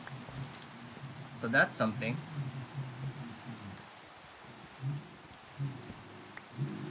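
Steady rain falls in the video game Minecraft, a soft continuous patter throughout while someone talks over it.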